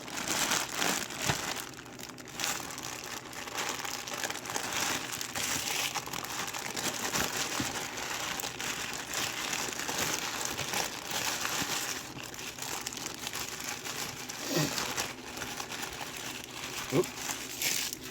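Packing paper crumples and crinkles steadily while a package from a lock picking lawyer is unpacked, a continuous close rustling with a few sharper tears and taps along the way.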